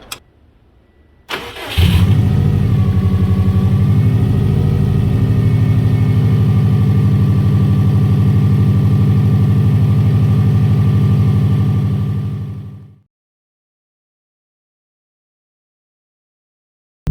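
A Subaru WRX engine cranks after installation, catches and settles into a loud, steady idle. It runs close and evenly for about ten seconds, then cuts off abruptly into silence.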